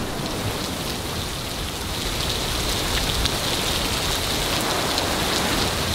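Heavy tropical rain pours down in the Maldives as a dense, loud, continuous hiss, with scattered drops and splashes standing out briefly above the steady downpour.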